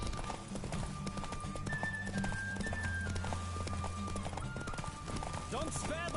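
Horse galloping in The Witcher 3 during a race, rapid clip-clop hoofbeats with a whinny, mixed with game music and spoken lines.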